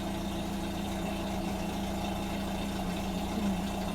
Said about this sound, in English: I notice at coasters sometimes the engine doesn't, it idles roughly for a while.